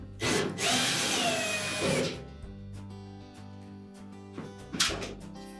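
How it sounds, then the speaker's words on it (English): Power drill whirring as it backs out 1/4 inch hex head screws from the front panel of a Whirlpool dryer cabinet, two loud bursts near the start then quieter clicks and a brief whir near the end. "we're going to remove two screws that secure that front panel to the cabinet"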